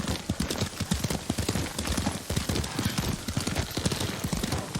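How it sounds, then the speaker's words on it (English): A horse's hooves clip-clop at a brisk, steady gait during riding in the video game Ghost of Tsushima, the rhythmic hoofbeats close and continuous with faint background noise. "Lord Sakai taught me to ride horse."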